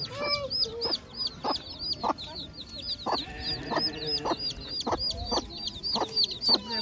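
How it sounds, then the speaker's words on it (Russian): Chickens, including a white hen, clucking close by, a rapid series of short repeated clucks with bright chirping calls from chicks mixed in. "Белая курица."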